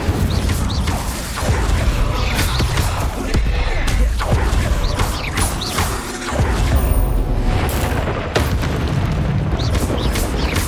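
Confringo blasting spells in Hogwarts Legacy go off as a string of loud, close booming explosions with mechanical rumble, several bursts spaced a second or two apart under continuous combat noise.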